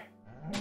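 A cow moos in a survival island video game, a single low drawn-out bovine call that swells louder toward the end, close and clear with no talking over it.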